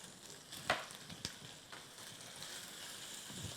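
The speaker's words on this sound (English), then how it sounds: "we are just basically shallow frying the onions, red peppers in some vegetable oil while Chef Belinda polishes off my carrots." Onions and red peppers shallow frying in vegetable oil after a puree goes in, giving a steady close sizzle with a couple of sharp clatters and pops near the start.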